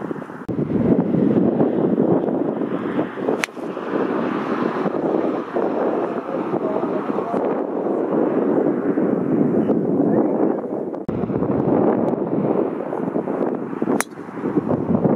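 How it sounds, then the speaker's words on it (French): Strong wind buffets the microphone on an open golf course, a steady roaring rumble with gusty swells and occasional sharp knocks, no voices. "Il y a du vent, il y a du vent."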